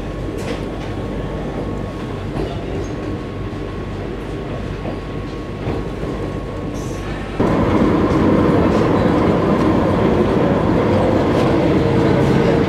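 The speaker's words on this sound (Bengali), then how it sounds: "ঠিক 2 মিনিট মতন স্টপেজ টাইম দিয়ে ট্রেন বোলপুর শান্তিনিকেতন স্টেশন ছেড়ে দিল।" Vande Bharat Express pulling out of Bolpur Shantiniketan station, heard from inside as a loud steady rumble of running wheels that rises sharply partway through and then holds, with no talking.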